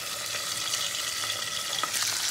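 Pabda fish fry in a wok with a continuous close crackling sizzle and occasional stirring clinks, heard alone without voices.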